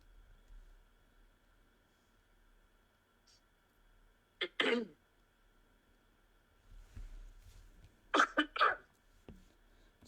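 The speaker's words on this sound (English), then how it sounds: "I had a cough" Two short, sharp coughing bursts a few seconds apart, the second a quick double burst, close and fairly loud against a quiet room with a faint steady hum.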